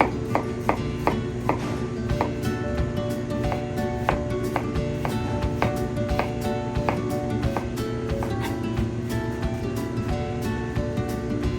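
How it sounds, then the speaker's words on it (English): A knife dices an onion on a cutting board, giving steady, regular chopping taps at moderate loudness over a low background hum from the kitchen. "Next, we're going to dice up an onion."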